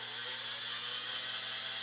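Lathe running at about 680 RPM while machining the end of a leadscrew: a steady, even mechanical hum and whir, constant throughout and with no speech.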